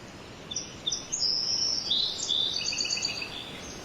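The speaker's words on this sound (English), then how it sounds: "And the birds, just listen to the birds." Several birds sing outdoors in a steady chorus of high chirps and warbling phrases, moderately close, with no talking.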